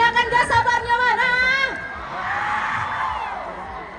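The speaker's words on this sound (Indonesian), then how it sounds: "Teriakan gak sabarnya mana?" At a concert in the Bonebol sports stadium in Gorontalo, a large crowd screams and whoops loudly together. A sustained, high-pitched roar fades into a broad, steady wash of crowd noise.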